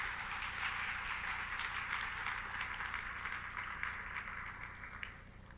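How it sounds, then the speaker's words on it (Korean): At a ceremony where the new CEO of Woori Bank Vietnam speaks, the audience gives a short round of soft, steady clapping that sounds somewhat distant, with a low hum beneath it. "박수 한번 쳐주세요."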